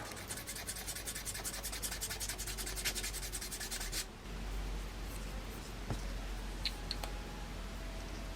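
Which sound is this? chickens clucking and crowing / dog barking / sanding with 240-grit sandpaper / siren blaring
sanding with 240-grit sandpaper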